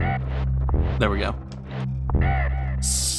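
Birds caw in a video game, harsh short cries repeating over a low steady hum, with a person talking over them.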